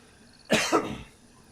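A man gives one short, close cough in two quick bursts, sharp and throaty, then quiet follows.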